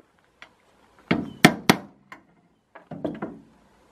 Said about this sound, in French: on fait un avant-trou avec un clou un petit peu plus gros